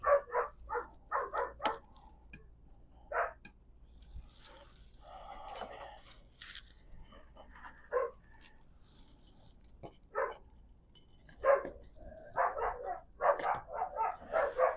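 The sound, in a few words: dogs barking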